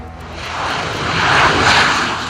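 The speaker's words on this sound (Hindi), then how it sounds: "सुखोई 30 भारतीय वायुसेना का सबसे ताकतवर विमान है" An Indian Air Force Sukhoi Su-30MKI fighter jet passes with a loud broadband engine roar that swells and holds, with no voices.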